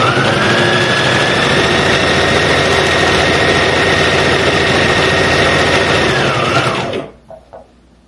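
Sewing machine stitching fabric for an abaya, a loud, steady close-up whir running continuously for about seven seconds before stopping abruptly, followed by a couple of faint handling clicks, with no voices.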